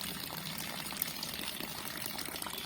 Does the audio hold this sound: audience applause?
no